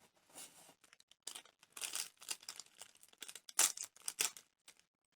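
A small plastic bag from a Boya M1 lavalier microphone package crinkles in short, irregular bursts close by, rustling and crackling with brief pauses between handlings.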